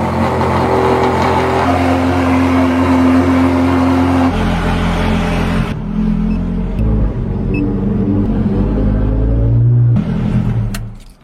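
A Ferrari 430 engine idles loud and close after a cold start, with a deep steady drone and a rough low rumble. The pitch shifts partway through before the sound cuts off near the end.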